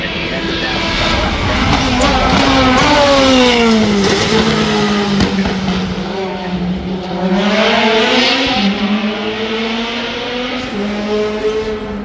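Race car engines scream through a motor race, high-pitched and loud, with revs rising and falling as cars shift and pass, continuous for the whole stretch.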